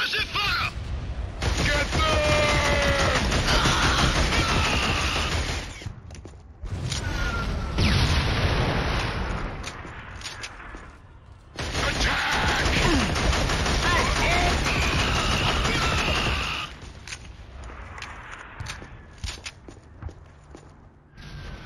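Sustained bursts of gunfire in the Killzone shooter during a Helghast assault, loud rattling volleys in three long stretches separated by brief lulls, with footsteps and battlefield clatter beneath.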